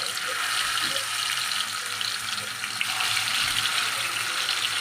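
Fish frying in hot oil in a home kitchen in Chennai, a dense, steady hiss and crackle that stays loud and close throughout, with faint background sounds underneath.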